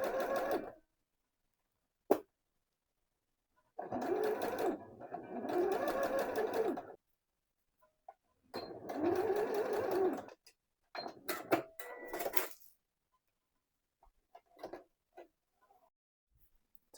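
A sewing machine stitches waist pleats along a marked line in several separate bursts of steady whirring, each a second or two long, with short pauses and a few light clicks between runs.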